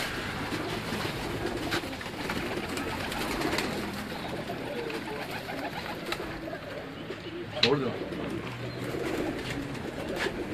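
Breeder pigeons kept in a loft, cooing softly and steadily throughout, with faint wing flutters and occasional background noise and no talk.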